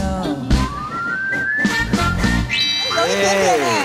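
Whistled melody of a song at a karaoke show, a bright sliding tune carried over a busy backing track, loud and close.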